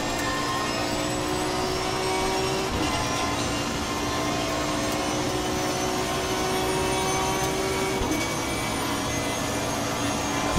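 A 6-litre V12 Aston Martin Vantage V12 GT3 race car engine in Assetto Corsa Competizione drones at a steady high pitch, loud and continuous, with brief shifts in tone and no talking.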